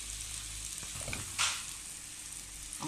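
Bacon sizzles in a pan as a steady, fairly quiet crackle and hiss, with a brief clatter and a louder spitting burst partway through.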